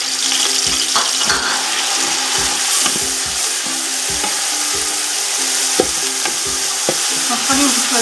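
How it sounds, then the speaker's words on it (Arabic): Grated onions fry in hot oil, producing a loud, dense sizzle close by, punctuated by regular stirring knocks and scrapes of a utensil against the pan. "نخليو البصلة ديالنا تشحط تيتغير اللون ديالها"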